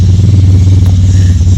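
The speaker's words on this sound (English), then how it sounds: "Wait till a motorcycle goes by." A motorcycle's engine makes a loud, low, droning rumble close by that holds steady through the whole moment.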